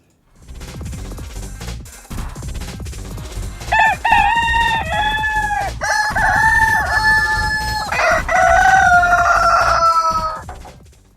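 Rooster crowing in a loud, near, repeated series of drawn-out calls, preceded by rhythmic percussive clucking, with no talk over it.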